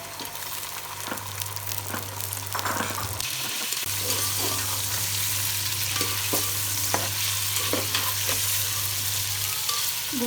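Chicken fries with lightly browned onions in a pan, a loud continuous sizzle with stirring scrapes throughout and a steady low hum underneath.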